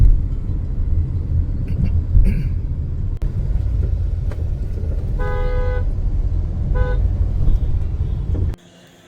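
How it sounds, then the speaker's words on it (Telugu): Heavy road traffic rumbles steadily and loudly throughout, with two short bursts of car horn honking in the middle, before the roar cuts off abruptly near the end. "చూడండి వెహికల్స్ అయితే ఎట్లున్నాయో భయంకరమైన ఈ ట్రాఫిక్"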